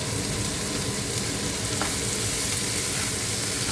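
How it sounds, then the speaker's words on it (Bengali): Potatoes tipped into hot oil already frying onion, garlic and dried chili, giving a loud, dense, continuous sizzle up close with faint stirring, and no one speaking. "এখানে আমি পেঁয়াজ রসুন আর শুকনা মরিচ প্রথমে তেলে দিয়ে দিয়েছি। এখন দিয়ে দিচ্ছি আলু।"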